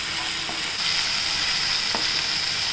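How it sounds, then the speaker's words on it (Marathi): Chopped onion sautés in a pan for a ridge gourd vegetable dish, giving a steady, close sizzle with a couple of faint utensil taps and no talking. "कांदा टाकूया छान परतून घेऊया आपण"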